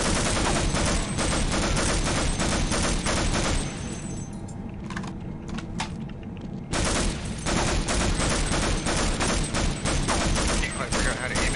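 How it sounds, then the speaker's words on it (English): Loud, dense gunfire from the shooter Half-Life, continuous bursts filling the whole clip, briefly easing in the middle before resuming at full intensity. "who's shooting at me?"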